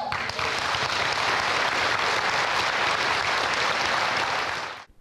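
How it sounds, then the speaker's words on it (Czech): Loud, sustained applause from an audience for a troupe of amateur actors, a thick continuous wash of clapping that holds steady for several seconds before cutting off abruptly at the end. "Další velký potlesk patřil bardům strakonického souboru."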